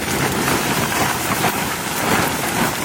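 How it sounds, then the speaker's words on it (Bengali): Steady rain pours down outdoors at a traditional Bengali village cooking spot, a dense, even hiss of drops striking surfaces that fills the whole stretch without pause. "বৃষ্টি নেমে গেল।"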